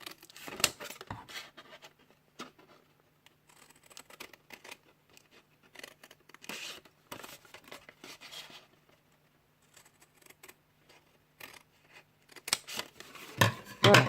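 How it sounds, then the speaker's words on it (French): Scissors snip through card stock along lines for the bottom of a handmade Halloween box. Short, quiet cuts come in irregular clusters, with paper rustling and long pauses between them. "on va découper ici ces lignes pour pouvoir faire le fond"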